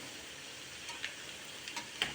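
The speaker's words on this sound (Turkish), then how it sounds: "Son tava köftelerimi de kızartıyorum." Eggplant meatballs fry in a pan of oil, giving a steady, soft sizzle with a few faint crackles and pops over about two seconds, fairly quiet and continuous with no voices.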